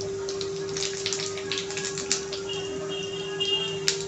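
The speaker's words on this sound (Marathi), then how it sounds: "जिरे छान तडतडू द्यायचे आहे।" Cumin seeds crackle in a spoonful of hot oil in a kadhai: close, sharp pops and spits scatter irregularly over a low steady hum, with a few louder snaps toward the end.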